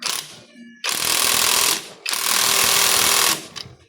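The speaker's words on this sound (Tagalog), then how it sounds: "Gamit tayo ng impact." Impact wrench spinning a 19 mm bolt on the clutch side of a Suzuki Smash 115 motorcycle: two loud, close, buzzing rattling bursts of about a second each, separated by a short pause.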